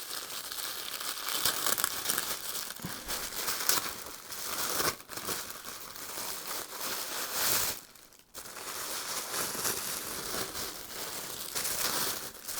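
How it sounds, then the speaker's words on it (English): Tissue paper crinkles and rustles steadily as a parcel of cotton fabric from a fabric boutique is unwrapped, close and continuous with brief pauses and occasional tearing. "So it's going to be crinkly because it's all wrapped up in this tissue paper"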